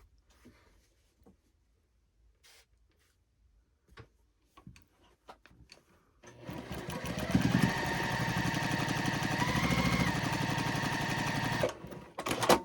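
A sewing machine chain piecing quilt blocks starts after several seconds of quiet with faint ticks and handling, then runs loud and steady for about five seconds before stopping.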